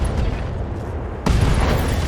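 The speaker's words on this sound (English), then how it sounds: "Ammo explosion." Ammo explosion in the Roguetech mech combat video game: a sudden loud boom cuts in at about 1.2 seconds over an already rumbling battle mix and holds as a dense, sustained roar.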